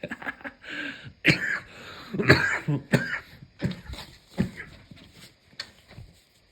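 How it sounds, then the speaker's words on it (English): Repeated coughing fits, sharp bursts scattered over several seconds with short breaths in between, close to the listener. "And now I'm coughing."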